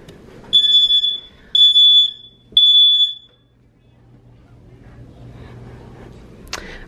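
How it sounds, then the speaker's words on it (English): A kitchen smoke alarm set off by a broiler toasting potatoes gives three loud piercing beeps in a steady rhythm, then stops, leaving quiet room noise and a brief clatter. "my smoke alarm goes off"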